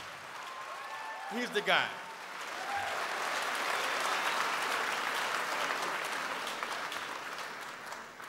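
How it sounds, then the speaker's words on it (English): An audience claps for Sergio at the Unity is Strength anti-discrimination awards show, sustained applause from a large crowd that swells and holds for several seconds. A voice speaks briefly just before the clapping rises. "Give it up for Sergio. A big round of applause."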